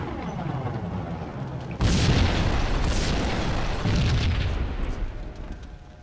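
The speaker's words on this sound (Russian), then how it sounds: "Здание было просто нашпиговано взрывчаткой." Large explosions tear through an explosive-rigged building in the video game Max Payne, a sudden loud boom at about two seconds followed by sustained rumbling, debris crashing and a second burst, with no talking.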